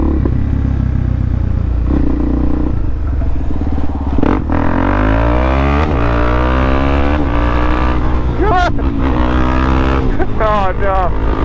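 A small underpowered motorcycle engine revs continuously, its pitch rising and falling with gear changes, loud and close over wind noise.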